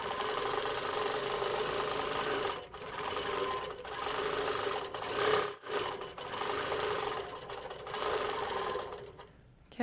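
A Moxie XL longarm quilting machine stitches a circle, its steady rapid mechanical whir running continuously with a few brief dips and pauses, close and fairly loud, with no talking.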